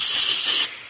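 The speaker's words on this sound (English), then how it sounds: "So I've been spraying these, the spring," An aerosol spray can hisses onto a spring on a corn head during a teardown, a loud close hiss for most of a second before it abruptly cuts off.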